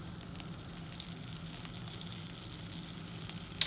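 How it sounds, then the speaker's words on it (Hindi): Spices frying in a pan for butter chicken, with Kashmiri red chilli, salt and garlic paste, give a steady, soft sizzle that runs unbroken and fairly quiet throughout. "देन इसको थोड़ा सा स्टर कर लेंगे"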